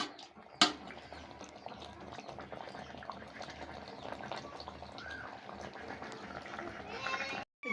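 Hot broth is poured into spicy Bengali beef curry, starting with a sharp knock, followed by continuous bubbling and gurgling liquid at close range.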